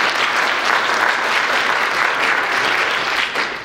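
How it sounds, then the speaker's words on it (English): A school spelling bee audience claps in sustained, dense applause, a steady wash of many hands that holds evenly before tapering slightly at the end. "Let's give them a round of applause here."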